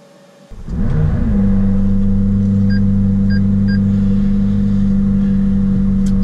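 A McLaren 570GT with a 3.8-litre twin-turbo V8 starts up from quiet and settles into a loud, steady, close idle rumble, with a few faint electronic sensor beeps over the engine drone.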